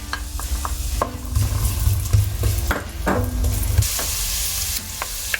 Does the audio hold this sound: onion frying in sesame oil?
yes